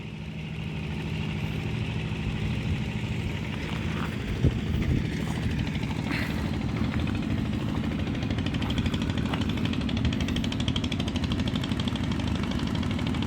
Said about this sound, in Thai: ต้องขี่มอเตอร์ไซค์ข้ามไปดูครับผม